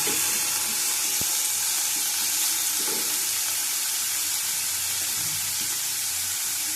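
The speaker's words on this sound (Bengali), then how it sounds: "একসাথে সব ভেজে নেবো, ভালো করে ভাজবো।" Bottle gourd peel with green chillies frying in a pan: a steady, loud, close sizzle of oil that runs unbroken, with a few faint clinks underneath.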